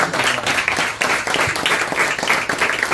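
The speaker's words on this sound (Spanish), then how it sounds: "Bríndele un fuerte aplauso." Sustained applause from a gathered crowd at a ceremony where donors are honored during a house handover, a dense, steady patter of many hands clapping with no voices over it.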